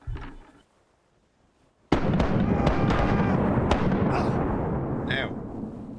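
A pirate ship fires a cannon broadside in the game Rise of Piracy, a sudden heavy booming blast after a near-silent pause, followed by several seconds of rumbling, crackling impacts.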